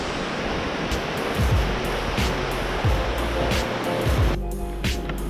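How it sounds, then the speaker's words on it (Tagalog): Sinulong Falls waterfall roars as a steady, broadband wash of rushing water, constant and fairly loud throughout, with faint scattered background sounds. "Sinulong Falls."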